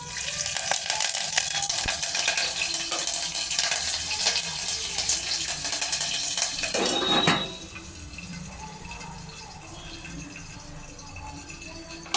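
Mustard seeds, cumin, dried chillies and curry leaves frying in hot oil, a loud steady sizzle that drops abruptly to a quieter hiss partway through.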